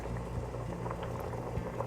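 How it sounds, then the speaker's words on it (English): Chickpeas boil in a pot on the stove, a continuous soft bubbling and gurgling with small pops, close and moderately quiet. "So the chickpeas boiling."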